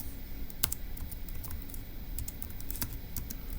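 Steady typing on a computer keyboard, fairly close and continuous, a brisk run of key clicks with a few sharper strikes and no talking.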